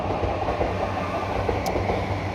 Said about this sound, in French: on a toutes ces rails tous ces trains qui passent ici